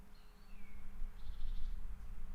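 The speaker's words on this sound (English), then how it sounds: "That's the black woodpecker." A black woodpecker calls from a distance in a forest, a high, clear call of a few short whistled notes followed by a quick trilling phrase over a low steady hum.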